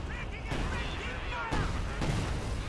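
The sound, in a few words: Katyusha rockets landing in a video game barrage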